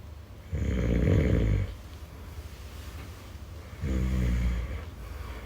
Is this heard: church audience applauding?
no